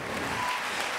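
A concert audience applauds at the closing show of the 48th Rencontres d'Astaffort, a brief burst of dense, steady clapping that fills the room with no voices over it.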